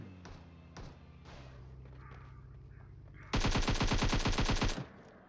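In PUBG Mobile, played on an iPad, a rapid burst of automatic gunfire rattles loud and close for about a second and a half, after a few quieter thumps and game noises.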